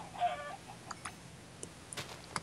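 A chicken in a video game gives a faint cluck, followed by scattered soft ticks and clicks over a quiet background.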